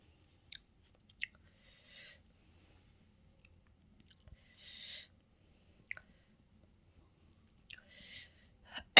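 Ginger is chewed up close in a quiet room at night, short crunchy bites and moist mastication sounds coming in scattered bursts with silent gaps between them.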